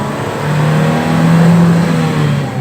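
A car engine revs loud and close as it accelerates in second gear, the pitch climbing steadily and holding high without any talk.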